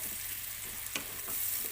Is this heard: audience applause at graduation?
no